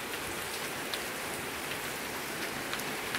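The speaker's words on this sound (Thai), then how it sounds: "ข้างนอกดูบรรยากาศข้างนอกฝนยังตกอยู่เลยยังไม่หายเลย" Rain falls steadily outside, a soft, even hiss of drops on surfaces with no voices, continuous and fairly faint.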